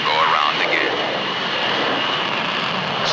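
Navy jet airplane on a carrier landing approach, its engine giving a loud, steady broadband roar with a whining tone, close and continuous for a few seconds, with a voice talking over it.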